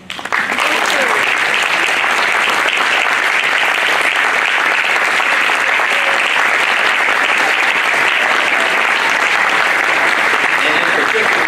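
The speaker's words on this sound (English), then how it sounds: "So I want to give a real hearty round of applause to our wonderful staff." Hearty audience applause at an honors awards event, a dense steady wash of clapping that starts abruptly and holds loud and even throughout, with a few faint voices mixed in.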